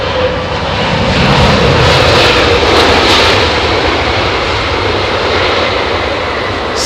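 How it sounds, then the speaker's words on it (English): A Virgin Boeing 787 Dreamliner comes in to land at London Heathrow in low visibility over a wet runway. Its engines give a loud, sustained jet roar with a steady whine that swells and then slowly recedes, with no speech. "Look, Virgin Dreamliner with its gear up."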